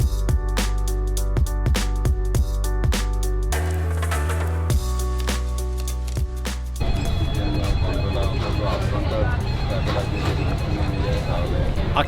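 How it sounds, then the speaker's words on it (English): A telephone rings loudly and close in a steady, repeating pattern, then gives way to dense crowd hubbub in the busy tourist square of San Marco, Venice. "I can't answer the phone right now"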